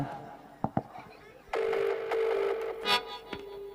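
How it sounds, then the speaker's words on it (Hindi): After a few clicks, a phone ringing tone hums steadily through a handset while voices talk over it. "घंटी तो जाते यार, कॉल कैसे नहीं उठाए राधा है"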